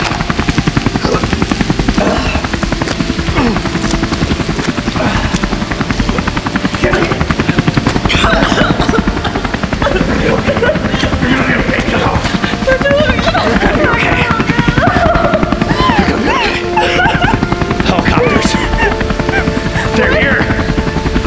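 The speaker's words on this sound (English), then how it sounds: "Helicopters." A helicopter's steady rotor drone runs loud and continuous throughout, with voices and other activity layered over it.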